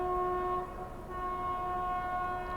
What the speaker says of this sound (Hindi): बनारस नई दिल्ली शिवगंगा सुपरफास्ट एक्सप्रेस, क्या आ रही है भाई, शिवगंगा सुपरफास्ट एक्सप्रेस